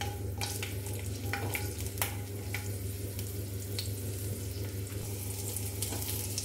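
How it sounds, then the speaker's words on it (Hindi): Five or six garlic cloves fry gently in hot oil for a spicy garlic chutney, giving a steady close sizzle with small crackles and a low background hum, and no talking. "अब इसमें हम डालेंगे 5-6 कली लहसुन की। लहसुन को हल्का सा भून लेते हैं।"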